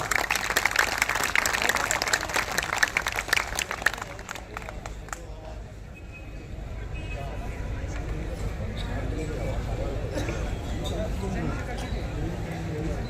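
Dense applause for AAP leader Rajendra Pal Gautam at a 25 December Manusmriti-burning gathering, loud and crowded for about five seconds before fading into a steady murmur of the crowd.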